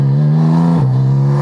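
A 2023 Porsche Cayman GT4 RS engine holds a loud, close, buzzy high-rev note that drops slightly in pitch partway through and then carries on steadily.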